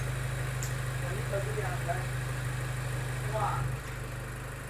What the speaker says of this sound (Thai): ฟังเสียงเครื่องยนต์ค่ะ